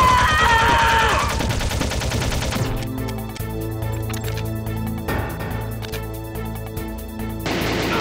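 Gunfire in Metal Gear Solid: loud automatic bursts hammer away under a droning game score, with a sharper volley of shots partway through and no voices.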